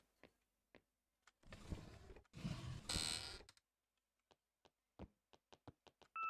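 A ghost-hunting device gives a short, clear two-tone electronic beep at the very end, after scattered sharp knocks and taps and a couple of bursts of rustling noise in a quiet room.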